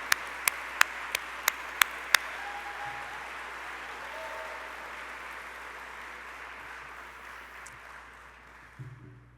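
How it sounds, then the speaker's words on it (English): Audience clapping for grant recipients at the Explore St. Louis annual meeting and awards: a few sharp, separate claps open into a sustained, even round of applause that fades gradually, with the room's murmur beneath. "Let's give them a round of applause."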